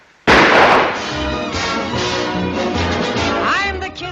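A rifle volley from a firing squad in an old movie scene erupts as one sharp, loud blast, followed by a sustained rumbling, echoing wash of noise that gradually settles.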